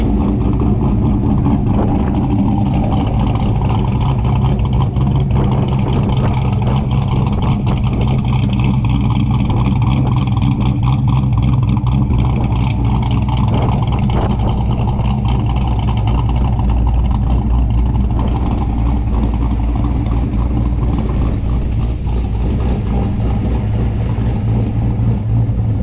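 A 1994 Ford Mustang Cobra V8 fitted with a Trick Flow cam idles steadily nearby, a loud, continuous, lopey low rumble that holds without revving for the whole stretch.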